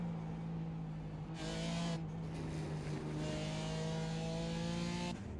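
Ford Bronco with a 2.7-liter twin-turbo EcoBoost V6 pulling hard under acceleration, a steady loud engine drone rising in pitch as it gains speed, heard from inside the cabin.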